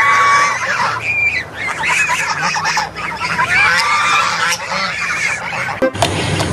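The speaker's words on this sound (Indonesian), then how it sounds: "Wow, ada seekor bebek." A toy duck gives off a series of loud, honking quacks that run almost continuously through the moment, with no talking over it.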